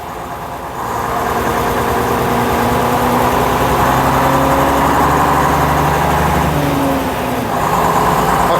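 A 1956 Daimler double-decker bus with a pre-selector gearbox and fluid flywheel drives along, its engine droning steadily at mid pitch after a quieter start, with a brief dip in load near the end as the gear shifts.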